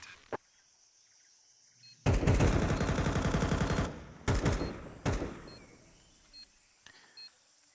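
Automatic gunfire in a competitive shooter video game at an esports event, one long sustained burst followed by a few shorter bursts, fairly faint and heard alone without commentary.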